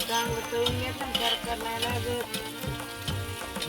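Onions frying in a pan for egg bhurji, a close sizzle with repeated stirring scrapes and clinks against the pan at an uneven rhythm, with no talk.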